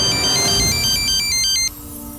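A phone plays a bright, repeating electronic ringtone melody, loud and close, for about a second and a half. It then cuts off, leaving a quiet room hum.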